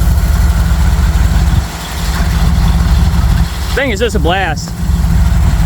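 Jeep engine running with a steady rumbling idle and rising revs, close and loud, while someone talks briefly over it near the end.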